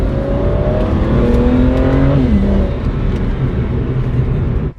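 A BMW 335i fitted with a VRSF catless downpipe accelerates hard from inside the cabin. The loud exhaust and engine note climbs steadily in pitch through the rev range, drops at a gear shift, then pulls again under steady road roar.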